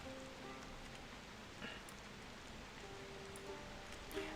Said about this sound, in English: it's better than being in the direct downpour